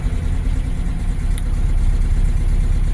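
A 1966 Porsche 912 engine with rebuilt 356 carburetors idling slightly high, a steady, close, low rumble that holds an even level throughout, with no voices.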